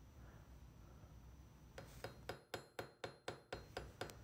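A hammer peens a pin against an anvil while a knife handle is fitted for a solder joint, starting after a quiet stretch with about ten sharp metallic taps in a steady rhythm, close and fairly faint, with no talking.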